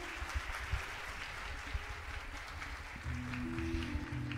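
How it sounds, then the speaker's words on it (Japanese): Applause from the audience at the Miss Earth Japan 2021 crowning ceremony, a soft, distant, steady patter of clapping with a low musical tone entering partway through. "どうぞ大きな拍手でお送りください。"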